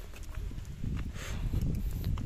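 A horse's hooves clip-clop along a flooded, muddy rural road, a steady uneven plodding of muffled hoofbeats, close and moderate over a rumbling background.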